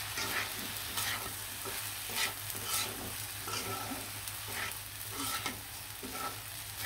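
Rice and lentils being dry-fried for khichuri, a quiet, even sizzle with repeated stirring scrapes of a spoon against the pot, with no talking.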